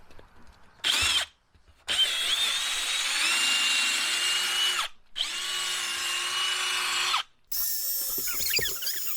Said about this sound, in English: I'm just wetting down the light, and then I'm going to start sanding it